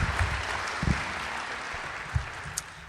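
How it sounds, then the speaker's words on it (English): Audience clapping at a panel discussion, a light scattered round of applause with a few sharper individual claps standing out, fairly close and with no talk over it. "people can clap"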